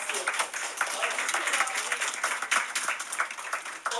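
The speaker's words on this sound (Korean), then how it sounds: "자 박수" At a middle school student Mass, a crowd applauds in a dense, continuous patter of claps, with voices heard over it.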